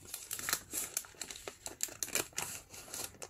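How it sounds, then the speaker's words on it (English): Scissors snip along the folded edge of a paper envelope, a close run of crisp crunching cuts and paper crinkles in uneven bursts, with no talk. "I'm gonna slide my scissors on one side into that envelope and cut here that fold."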